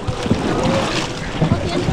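A lancha cruises on the river at Tamul in San Luis Potosí, a constant loud wash of water and wind noise buffeting the microphone, with rumbling low thumps throughout.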